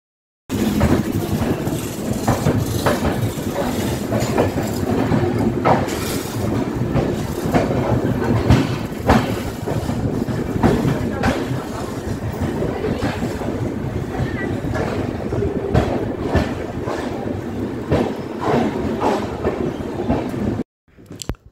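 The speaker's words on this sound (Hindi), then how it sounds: "झांसी रेलवे स्टेशन जिसे वर्तमान में वीरांगना लक्ष्मीबाई के नाम से जाना जाता है।" A train at Jhansi railway station, the Veerangana Laxmi Bai station, rumbles steadily for about twenty seconds with clattering wheel noise and broad station ambience, loud and continuous before cutting out.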